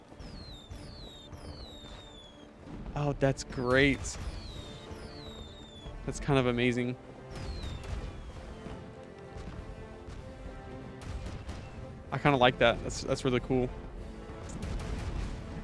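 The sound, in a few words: pirate ship cannon firing fireworks in The Legend of Pirates Online video game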